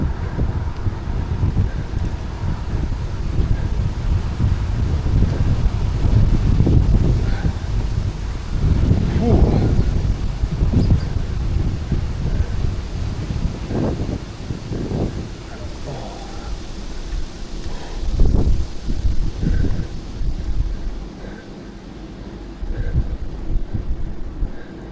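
Strong, relentless wind buffets the microphone during a bike ride near Richebourg cemeteries, a rough, surging rumble that swells and eases throughout, with brief bursts of voice mixed in.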